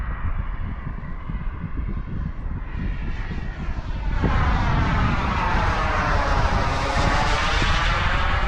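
RC Global Jet Club Hummingbird jet with an ACEx-80 turbine makes a gear-down, full-flap pass, its steady turbine roar and whine swelling louder as it closes in and sweeps by nearby, with wind noise underneath.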